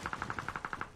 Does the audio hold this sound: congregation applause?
no